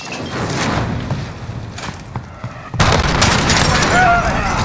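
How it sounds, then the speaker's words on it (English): In Call of Duty Modern Warfare multiplayer on the Piccadilly map, an allied cruise missile strike lands with a loud, abrupt boom over ongoing gunfire and battle noise, its rumble sustaining for several seconds. "Allied cruise missile away."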